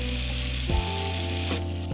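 White wine hits a hot pan holding octopus and hisses in a loud, steady sizzle, close up, with a brief stirring bump partway through.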